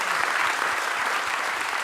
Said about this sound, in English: I give a warm applause to Roman.